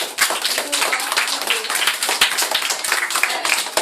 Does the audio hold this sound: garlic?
no